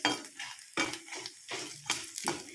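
Prawns frying in a pan for a dry prawn dish, with four or five scraping stirs of a spoon against the pan over a constant low sizzle, close and fairly quiet, with no talk.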